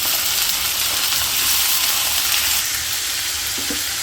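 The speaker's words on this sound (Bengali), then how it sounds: "যে তেলের মধ্যে পেঁয়াজ আর কাঁচামরিচ দিয়ে দিলাম, হালকা ভাইজে নেই।" Onions and green chilies frying in hot oil with a steady, loud, close sizzle and hiss that runs without break, with no talking.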